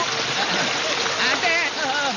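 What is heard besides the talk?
heavy rain in a forest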